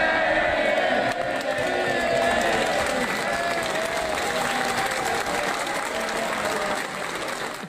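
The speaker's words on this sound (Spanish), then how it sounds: "Tiene gente que lo aplauda" A parliamentary audience bursts into sustained applause mixed with crowd noise and a few shouts, loud and steady for the whole stretch with no pause.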